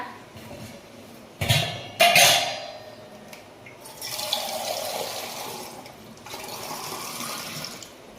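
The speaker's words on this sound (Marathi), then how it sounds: "टाकीची पाईपलाईन आहे एक इथं चालू पाणी पियाला" Water gushes from a tank pipeline tap in bursts, with clattering splashes early on, then a steady rushing flow that stops and starts again, loud and close.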